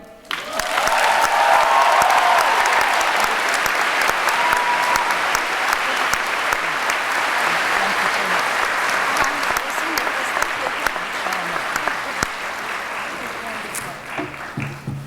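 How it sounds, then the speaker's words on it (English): Sustained applause from a large commencement ceremony crowd, a dense, even roar of many hands clapping that swells quickly and holds steady for about fifteen seconds before easing slightly. "Let's give another round of applause, please."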